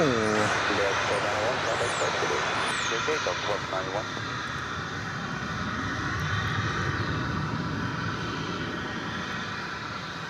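An aircraft from Cancun arrives at DFW airport. A sustained jet engine roar with a whining, sweeping tone runs loud and steady for the full stretch, and someone speaks over it.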